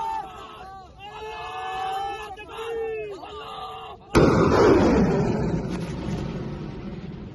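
Missile exploding in news footage, a sudden loud blast with a rolling roar that lingers and decays, preceded by excited voices shouting and chattering.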